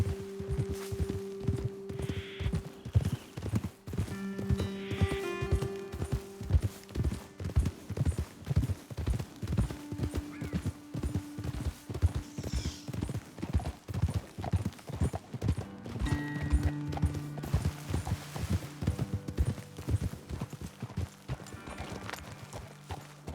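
Horses' hooves in Red Dead Redemption 2 clip-clop at a steady, fairly close walking rhythm on a trail, with an occasional whinny and faint voices talking over them.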